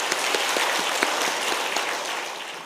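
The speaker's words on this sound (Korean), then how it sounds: "다시 한번 힘찬 격려의 박수하겠습니다" Church congregation at a Wednesday service applauding, a brief dense burst of clapping from a full room that fades slightly at the end.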